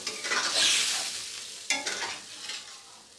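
Cold water poured into a sizzling fish curry in a wok makes a loud hissing burst that fades, then a second sharp splash-sizzle follows amid stirring, with no talking.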